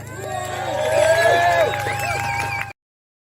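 Crowd cheering and shouting at an outdoor gathering celebrating county colours with all 32 counties represented, a dense continuous roar of many voices with whoops, swelling then holding steady before cutting off abruptly.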